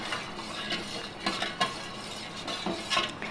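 A spoon stirs sugar into milk in a pot, with soft scraping and a few light metallic clinks at irregular intervals, quiet and close.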